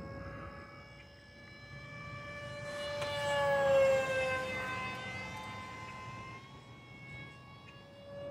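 An Aeroscout S2 1.1m RC airplane flies in the morning on a fresh battery, its electric motor making a faint, high whining drone that rises in pitch and loudness as it passes, then slowly fades.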